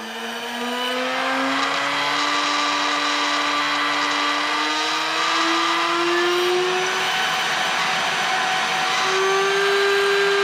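Rotary tool driving a rescue bit at about 24,000 RPM, a steady high-pitched whine that climbs in pitch as the speed rises, continuous and close with no talking.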